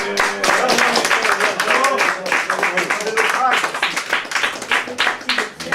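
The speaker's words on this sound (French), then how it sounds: "On l'applaudit" An indoor audience claps in a dense, sustained round over several seconds, mixed with voices and chatter.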